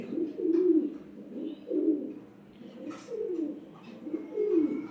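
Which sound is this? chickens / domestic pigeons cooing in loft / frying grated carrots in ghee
domestic pigeons cooing in loft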